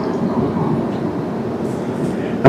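A passenger train rolls past a level crossing beside a railway gate, a loud steady rumble of wheels and cars at close range, with a brighter clank rising at the very end.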